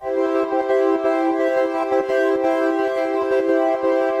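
A sustained synthesizer pad preset, Dreaming Gates, holds steady chords, with soft rhythmic percussive pulses running through it, played alone.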